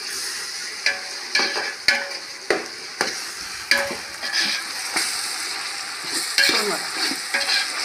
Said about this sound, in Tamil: இப்போ இஞ்சி பூண்டு பேஸ்ட் போட்டுக்கலாம்,